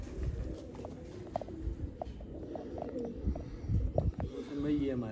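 Breeder pigeons, including a jausira pigeon, cooing close by in soft low repeated calls, mixed with handling noises and someone talking over them.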